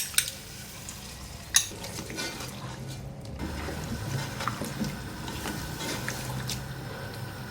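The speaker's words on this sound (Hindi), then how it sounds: "फेंट लूँगी इसको मैं।" Yogurt being stirred and whisked into browned chicken in a pot, a soft, wet, continuous squishing with a metallic clink early on, quiet and steady.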